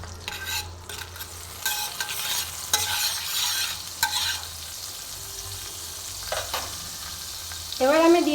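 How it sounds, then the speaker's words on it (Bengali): One spoonful of butter hits hot white oil in a pan and sizzles steadily. A spoon stirs and scrapes now and then, with a brighter burst of frying near the end. No one speaks. "সাদা তেল আমি দিয়ে দিয়েছি, দেখো গরম হয়ে গেছে। এবার আমি 1 চামচ বাটার এতে দিয়ে দিলাম।"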